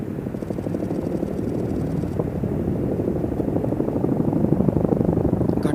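Two heavy-lift tandem rotor Chinook helicopters fly overhead carrying M777 guns as underslung loads at the Vayushakti 2024 military exercise, a loud continuous rotor thump and engine drone that grows slightly stronger over time.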